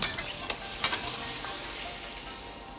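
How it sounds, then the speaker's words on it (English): Onions frying in a pan with butter, sesame seeds and soy sauce, a faint steady sizzle with a few brief stirring clicks near the start, quiet and without voices. "for the onions, I'm going to use a little bit of butter, a little bit of sesame seeds, and"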